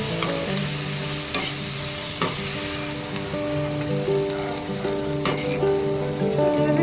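Methi paneer curry in Malvani masala sizzles steadily in a pan while a spoon scrapes and stirs it with a few sharp knocks, up close and fairly loud, as a soft background song plays underneath.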